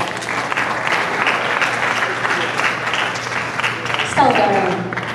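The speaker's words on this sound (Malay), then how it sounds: "Berikan tepukan gemuruh kepada semua" A crowd at a contest breaks into sustained applause, dense clapping that holds steady throughout with a faint murmur of voices beneath it.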